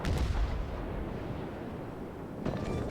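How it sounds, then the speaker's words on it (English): Heavy naval gunfire from a Pensacola cruiser in the World of Warships game, a loud booming salvo at the start with rumbling decay, then another sharp blast near the end. "We open fire and we take him out"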